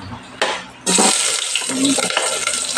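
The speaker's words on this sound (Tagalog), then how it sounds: "ginisa muna yung sibuyas" Onions sautéing in a pan for a Filipino egg tinola with chayote, loud sizzle bursting in after a brief stir and holding steady and close, with faint clatter of utensils.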